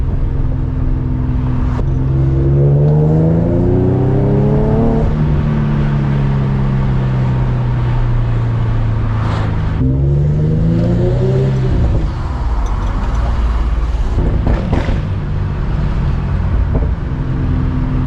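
An Infiniti G37 pulls hard to its 8500 RPM redline, with the engine note climbing steeply and then dropping at each shift across several rising sweeps, loud and close from inside the car.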